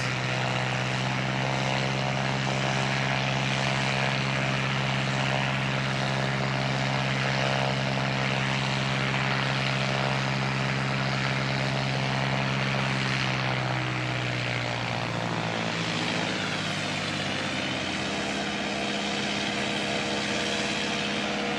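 Air New Zealand flight NZ 5343, a propeller airliner, departs Christchurch Airport with a loud, steady propeller drone and strong tonal harmonics that hold for most of the stretch, then bend downward and shift near the end as it pulls away.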